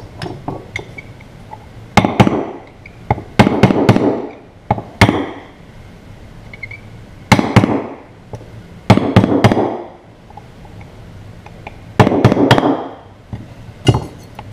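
Old bearings are hammered out of a golf cart gearbox: loud, close metallic blows arrive in clusters of quick strikes separated by brief pauses, ringing sharply over a quiet workshop background.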